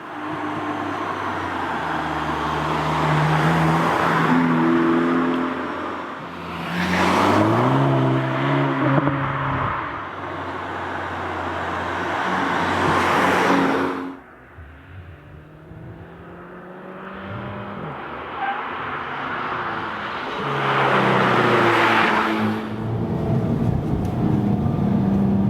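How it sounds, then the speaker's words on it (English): A new Volkswagen Polo GTI driving on a racetrack, its engine repeatedly revving up through the gears in loud rising sweeps, easing off between runs, with no talking. "welcome to the racetrack with the new Polo GTI."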